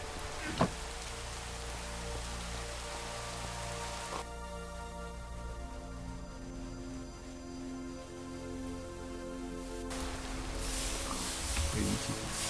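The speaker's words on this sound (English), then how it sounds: "It's the damn rain, isn't it?" Rain falls steadily in Minecraft with the TerraFirmaGreg modpack, a continuous hiss of drops on surfaces lasting throughout under game sounds, with a person talking faintly at times.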